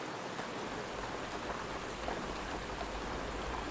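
Soft rain falls steadily on a tent in a forest, a dense, even patter with no pauses or voices.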